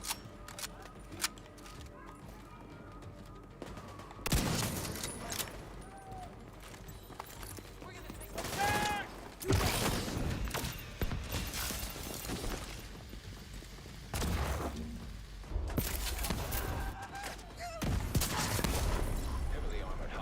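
Gunfire in The Division 2 video game during a Guardians event: bursts of shots and sharp impacts come in clusters over a steady game background, with an automated voice speaking in places.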